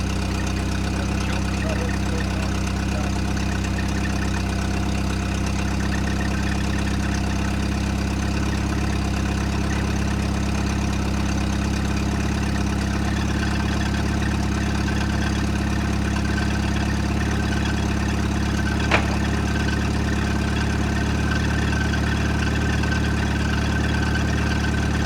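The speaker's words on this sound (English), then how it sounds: "The fast idle is already" A Ford Fiesta engine holds a steady, droning fast idle at close range for the whole stretch, with an even low hum that barely changes.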